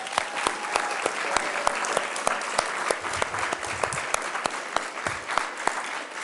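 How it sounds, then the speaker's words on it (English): Steady applause from an audience at a social entrepreneurship awards ceremony, a dense even patter of many hands clapping with sharp individual claps standing out, sustained throughout without talk. "Please join me in giving them a round of applause."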